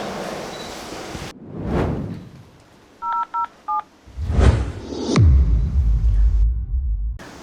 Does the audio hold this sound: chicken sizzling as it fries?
no